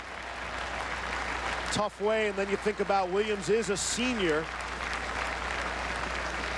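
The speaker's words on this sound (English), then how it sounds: "And you hear the applause." A stadium crowd keeps up sustained applause as an injured Wake Forest player is carted off the field during the Seattle Bowl, the broad roar continuing steadily under a commentator's voice.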